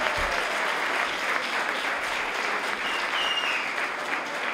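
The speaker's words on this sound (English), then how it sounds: "Now give yourself a hand clap if you really believe what you just said." An audience at a Cape Verdean Association family event for Dr. Martin Luther King Jr. claps in a dense, sustained burst of applause that fills the whole stretch at a steady level.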